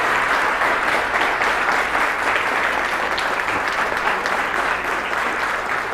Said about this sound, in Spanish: a la iglesia le dé un aplauso en agradecimiento al pastor